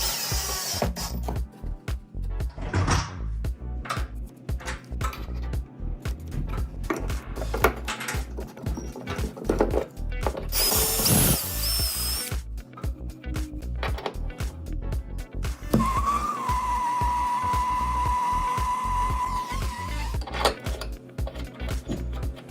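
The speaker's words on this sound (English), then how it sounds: "Drill a hole about 20 millimeters after identifying the position to install the radiator on the wall." A power drill bores a roughly 20 mm hole into a wall to mount a radiator, with loud, choppy bursts of motor whine and rattling clatter, plus a steadier high drone toward the end.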